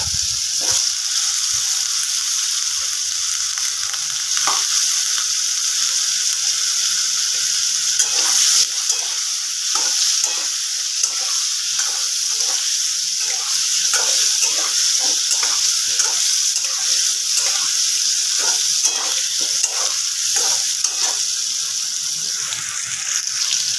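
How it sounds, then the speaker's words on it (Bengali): Potato and pointed gourd pieces frying in a pan, a steady loud sizzle throughout with occasional scraping and stirring clicks, close by and with no talking. "আলু পটলগুলো একটু ভেজে নেব"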